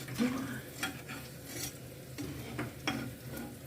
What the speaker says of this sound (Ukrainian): вони ще не проготовлені, вони ще тільки смажаться